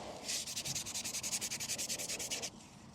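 Light hand sanding of helmet prop parts with 240 grit paper: a close, quiet run of about fifteen quick, rhythmic scratchy strokes that stop suddenly, with no talk.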